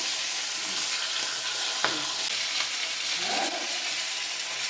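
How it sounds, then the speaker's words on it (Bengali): A fish head fries in hot oil, giving a continuous close sizzle and crackle with a sharp pop near the middle and a bubbling surge toward the end, with no voices. "মাছের মাথাটা ভেজে নেব।"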